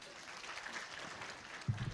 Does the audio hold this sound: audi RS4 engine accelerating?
no